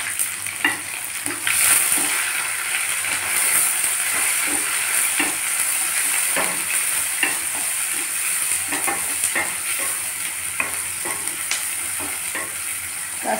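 Onions and curry leaves fry in a pan, a steady close sizzle with scattered clicks and scrapes of stirring throughout, no voices.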